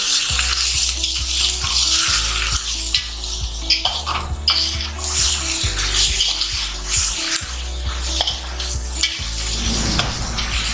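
Mutton searing on a high flame for Parsi mutton pulao, a loud, steady sizzle with broad hiss, overlaid by repeated metallic scraping and clanks of a spoon stirring against the pot throughout, no talking.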